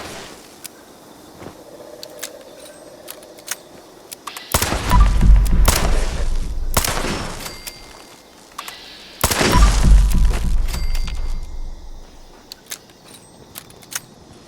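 Lever action rifle shots in Fallout ring out as two sharp, loud cracks around 4.5 and 9.3 seconds, each with a long rumbling tail. Fainter clicks and cycling noises fall between them. No voices.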